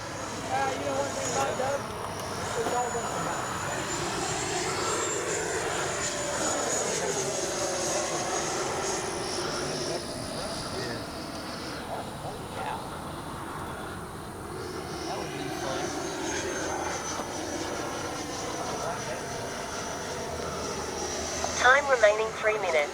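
An FMS Avanti S 90mm electric ducted-fan RC jet makes a steady whooshing whine during a low, slow pass and climb-out, with the pitch rising and falling as it flies by, while people talk nearby.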